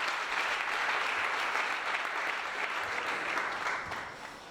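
A congregation at a youth seminar gathering applauds and cheers, a dense, steady wash of clapping that holds loud throughout and fades slightly toward the end.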